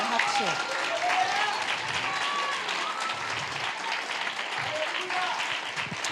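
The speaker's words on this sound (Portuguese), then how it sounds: "Vamos aplaudir o Senhor?" Congregation applauding the Lord during a church service, steady dense clapping throughout with scattered voices and a speaker talking over it.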